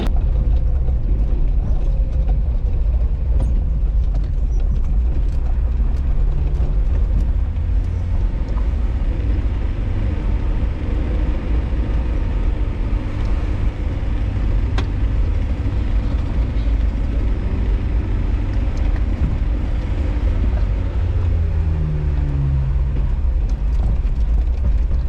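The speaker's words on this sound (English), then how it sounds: "I'm driving around trying to find some off-road trails." A car driving along a road near the Oregon coast, heard from inside as a steady loud low rumble of engine and tyres that holds evenly for the whole stretch, without talk.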